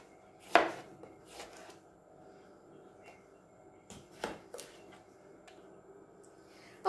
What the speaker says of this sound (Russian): Огурец я буду резать кубиком, не крупно